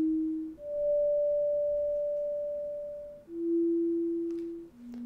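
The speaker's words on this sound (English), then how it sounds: "So we're taking a sine wave out of the VCO, running it through a VCA" Pure sine tones from a modular synthesizer oscillator through a VCA step between a few random sustained pitches, each note held for seconds with a smooth, slowly fading swell.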